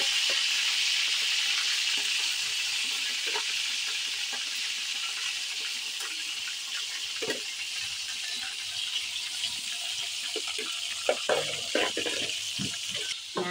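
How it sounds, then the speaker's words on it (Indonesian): Stingray fish frying in a pan, a steady, bright sizzling hiss that runs throughout, with occasional pops and scraping clinks near the end. "tinggal menggoreng ikan parinya ya"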